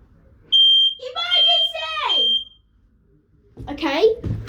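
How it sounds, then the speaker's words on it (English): A downstairs household smoke alarm sounding an electronic warble with a piercing tone that rises and falls, followed by a short pause and a second burst, loud and close, with a voice around it. "This is the downstairs alarm."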